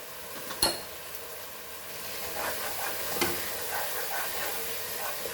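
Spices including degi mirch and coriander fry in a pan for dal makhani, giving a soft steady sizzle with a sharp clink of utensil against pan near the start and quiet stirring scrapes after.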